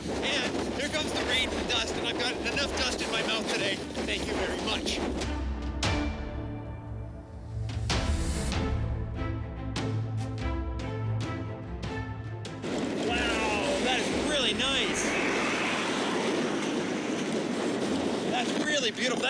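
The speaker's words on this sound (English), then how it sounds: "That's a beautiful gust front starting on that one." Storm wind from a gust front buffets the microphone in heavy roaring bursts, easing briefly in the middle before surging again, with people talking over it.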